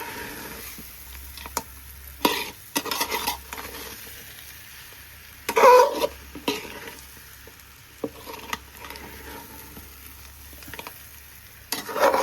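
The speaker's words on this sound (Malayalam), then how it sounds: "എല്ലായിടും അരപ്പെത്തുന്ന രീതിയിൽ നന്നായിട്ട് ഇളക്കി മിക്സ് ചെയ്തെടുക്കാം." A spoon works through a spiced fish pickle in a pan, scraping and turning with irregular bursts of stirring between quieter stretches, over a soft background sizzle.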